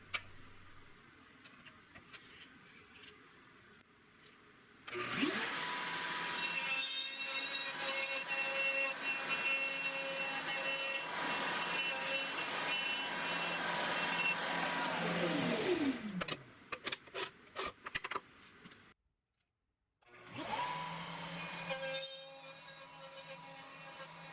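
A PantoRouter woodworking machine runs with a steady high router whine while cutting a tenon, holding loud for about ten seconds, then tailing off with clicks before spinning up again.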